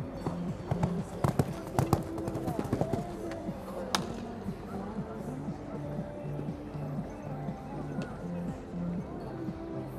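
Hooves of six- and seven-year-old horses in a show jumping final at an outdoor arena: irregular thuds and clops, with a few sharper knocks, sounding near against a busy background of crowd and arena noise.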